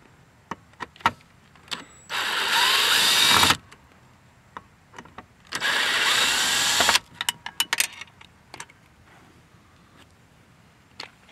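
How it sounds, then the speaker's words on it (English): A power tool backs out T30 Torx screws on a Ford truck rear seat in two loud whirring bursts of about a second and a half each, separated and followed by sharp clicks and handling taps. "we're going to go ahead and remove those screws"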